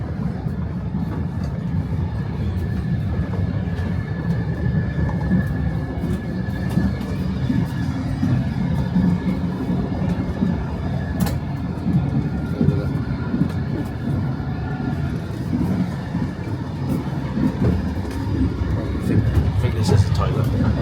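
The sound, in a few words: old Ukrainian passenger train riding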